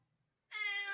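A cat named Ruby lets out a single clear, drawn-out meow after a brief quiet moment, close and fairly loud.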